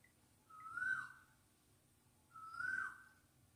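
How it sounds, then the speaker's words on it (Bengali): Two clear whistled bird calls ring out outdoors, each lasting about half a second and separated by a pause of roughly a second and a half, fairly faint against a quiet background. "পাখির ডাক শোনাই।"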